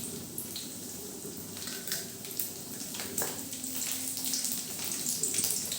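Dried red chillies and large garlic cloves frying in oil in a pan for chutney, a steady soft sizzle and crackle running throughout at moderate level with no one talking.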